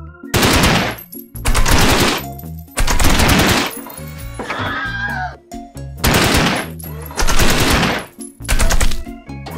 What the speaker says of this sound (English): You can shoot machine gun?